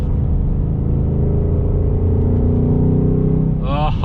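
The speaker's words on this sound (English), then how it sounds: "this has got some power, baby. 480 horsepower, guys. Normally aspirated engine. Sounds really good." A 2021 Ford Mustang Mach 1's naturally aspirated 480-horsepower V8 with a 6-speed manual drones steadily at high volume, a deep sustained rumble that rises into a higher revving pitch near the end.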